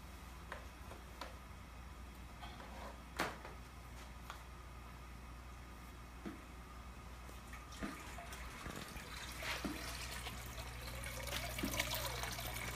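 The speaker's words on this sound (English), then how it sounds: "Water's flowing from here through the jacket." Water runs steadily through the cooling jacket of a home ethanol still, a soft continuous trickle and flow with occasional small clicks and splashes, fairly close and gradually louder toward the end, with no talking.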